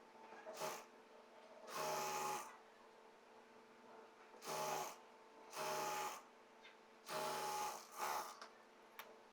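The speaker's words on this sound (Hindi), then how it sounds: "उसके ऊपर डबल सिलाई भी कर दी है" A sewing machine stitching the fitting seam on a full circular umbrella palazzo, running in repeated short bursts of whirring a second or so long, separated by brief pauses, close and alone.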